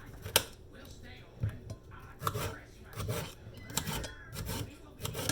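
A not very sharp kitchen knife slices bell peppers into fairly thick strips on a cutting board, giving a series of soft, close, scraping cuts at an irregular pace.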